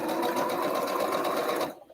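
Sewing machine stitching a Kitty Corner quilt block, a loud, close, continuous mechanical whir with a fast even needle rhythm that cuts off abruptly near the end.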